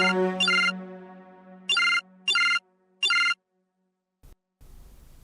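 A telephone ringtone chirps in short repeated electronic bursts over a low steady hum, then stops, followed by a brief rustle; no one speaks.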